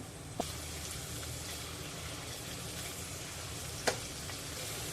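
Sliced onion, garlic and ginger frying in oil in a pan, a steady close hissing sizzle throughout, with two faint clicks from stirring, no talk.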